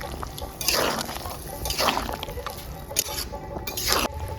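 Cornflour is stirred into a thickening Bengali-style chicken stew in a pot, with wet squelching and sloshing swirls repeating in slow, uneven strokes, close and fairly loud, with no talking.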